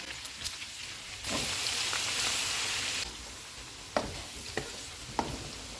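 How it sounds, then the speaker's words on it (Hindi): Ginger and garlic fry in hot oil for chicken karahi, giving a crackling sizzle that swells into a louder hiss for a couple of seconds. Several sharp clicks of stirring follow as the hiss settles. No one speaks. "दो मिनट के बाद अदरक और लहसुन डालेंगे, इनको 1 मिनट तक भूनेंगे।"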